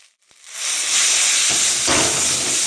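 Boiled jackfruit seeds hit a hot oiled frying pan, bursting into a loud, close hissing sizzle after a short quiet moment, then a steady roar that swells again midway.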